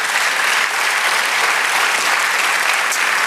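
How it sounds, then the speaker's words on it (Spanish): A church congregation claps loudly and continuously in praise of the Lord, a dense even wash of applause with no pauses. "Dale un aplauso al Señor."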